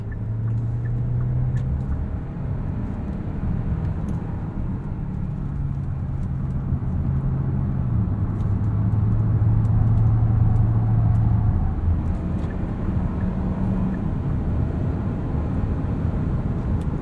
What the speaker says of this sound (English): Plenty of pull, plenty of power from this engine, perfectly adequate for normal use.